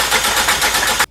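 A car's starter cranks the engine in a fast, lurching rhythm with uneven beats and a knocking undertone from inside the engine, loud and close, then cuts off abruptly.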